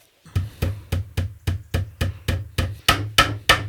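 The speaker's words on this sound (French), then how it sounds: "tu l'enfonces un petit peu le clou et tu prends le marteau" A hammer drives nails into the corner of a wooden amplifier cabinet, striking eleven sharp, evenly spaced blows close up, each ringing briefly into the wood.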